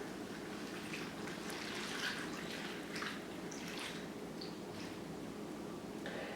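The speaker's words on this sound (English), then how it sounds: "you're going to add in 1 cup of pretty warm water" Warm water pouring steadily onto instant yeast in a bowl for homemade bread, a soft continuous trickle and splash at moderate level with no talking.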